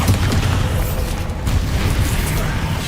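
A Bombardo spell explosion in the video game Hogwarts Legacy, a deep, loud, continuous rumbling boom that fills the whole moment with dense low roar and no clear pauses.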